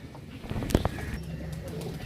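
Teddy pigeons coo softly amid a busy background, with a sharp clack or flutter near the start and faint chirps scattered throughout.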